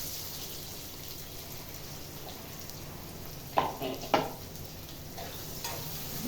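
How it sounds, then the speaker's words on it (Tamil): Finely chopped onion sizzling in hot oil with whole spices such as cardamom and clove, a soft, continuous frying hiss with a couple of brief stirring scrapes near the middle, close and fairly quiet. "வெங்காயம் வேகட்டும்."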